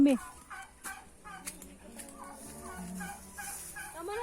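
Turkeys gobble in short rising bursts against a busy outdoor background with faint voices nearby, during mango picking in the Philippines.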